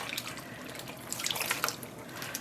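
Unraveled rainbow sock yarn soaking in water gives soft, close splashing and dripping with small irregular trickles and squelches, fairly quiet and with no talking.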